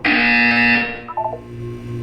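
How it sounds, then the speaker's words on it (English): A loud, steady electronic buzzer tone from a video game sounds for about a second, then breaks into a few short warbling beeps before a low hum continues. "You will hear a buzzer."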